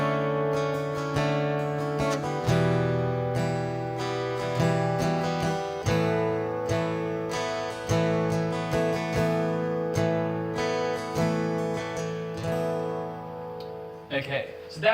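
Acoustic guitar strummed through simple two-finger chords in a beginner lesson, steady rhythmic strums with chord changes every couple of seconds, close and clear, ending with a brief harmonic-like pluck.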